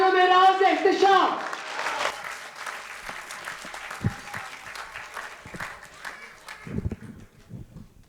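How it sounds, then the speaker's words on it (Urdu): Applause from the audience at an Urdu poetry mushaira in Dubai, a loud burst of clapping that gradually thins out, with a few scattered claps near the end. "آپ سب کی بھرپور تالیوں میں"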